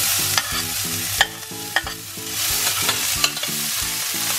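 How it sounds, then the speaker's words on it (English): Onions fry in a greasy pan with a steady close sizzle, broken by regular scraping stirs and a few sharper clicks of the utensil against the pan. "You can straight away immediately fry the onions."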